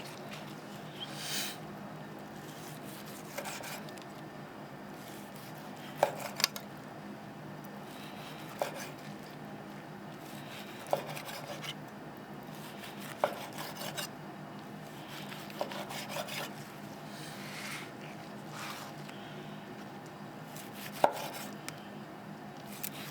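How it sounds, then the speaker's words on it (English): A knife slicing a hot-and-fast grilled medium-rare steak cooked from nearly frozen on a Traeger Flatrock, with repeated quiet cuts and soft taps on a board at regular intervals over a faint background hum. "Let's go ahead, slice this up,"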